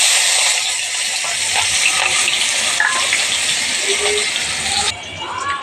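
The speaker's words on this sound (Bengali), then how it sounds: "ওই গ্রেডের জন্য আমি পেঁয়াজগুলো ভেজে নিই" Onions frying in oil in a wok make a loud, steady sizzle with light stirring scrapes, up close, easing slightly near the end.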